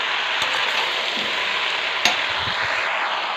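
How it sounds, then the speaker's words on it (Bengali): Fried cauliflower and other vegetables sizzling in a pan, a dense steady hiss up close with a few scattered clinks and scrapes from stirring and no talking. "ভেজে নেড়ে নেব।"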